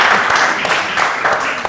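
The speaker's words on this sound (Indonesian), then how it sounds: "Tepuk tangan dulu lagi dong." An audience in a studio setting claps in short bursts, fairly loud and close, with voices talking over the applause.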